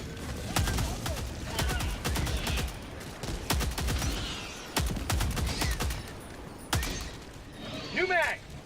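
Gunfire crackles in Helldivers 2 at difficulty 9: rapid, sharp shots in clusters and bursts, close and loud, with brief pauses between volleys and a voice talking over the action.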